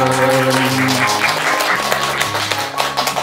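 Congregational clapping during a Vietnamese Catholic church hymn, with an elderly woman among those keeping time. Steady rhythmic claps sit under loud music with sustained tones and continue throughout.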